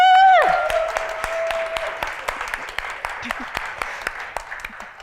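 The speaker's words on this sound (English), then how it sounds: "let's give them a round of applause" Audience applause for a success panel breaks out just after a brief whoop, then settles into a steady patter of clapping with a few louder individual claps that fade slowly toward the end.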